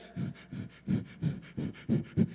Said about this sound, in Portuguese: Essa respiração curta faz a ansiedade aumentar.